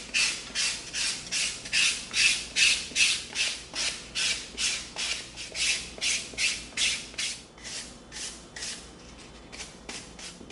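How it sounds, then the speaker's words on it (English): Steady rhythmic rasping strokes of a 220-grit sanding stick on EVA foam, about two per second, close and fairly loud, slowing and fading toward the end. "let's come in with our 220 sanding stick"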